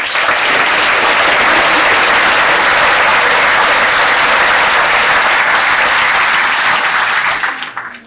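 A large crowd at a town mayor's New Year address applauds loudly and steadily for several seconds, the clapping fading out at the end.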